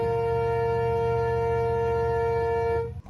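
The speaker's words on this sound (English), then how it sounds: "What you heard was the warning siren of the Indian Coast Guard ship Agrim." A ship's warning siren from the Indian Coast Guard vessel Agrim sounds at sea as one loud, steady, unbroken tone that holds level and then cuts off abruptly near the end, with no voices.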